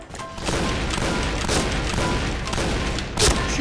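Gunfire in a shooter video game, a headshot scored amid a dense volley of sharp shots and impacts, loud and continuous, with one louder crack near the end.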